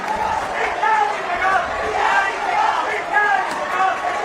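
Crowd roaring and cheering in a stadium during the India vs Japan hockey final, a steady dense wall of voices with rising swells, loud and continuous throughout.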